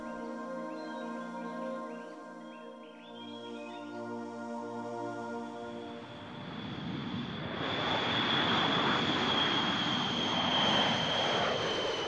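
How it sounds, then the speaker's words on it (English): B-52 bomber taking off from the island of Guam, its engines building from a distant rising drone into a loud, broad roar over the last half, with no talking. "A B-52 bomber thunders into the air as it leaves the tiny island of Guam."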